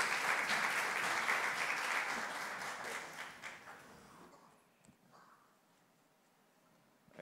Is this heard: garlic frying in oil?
no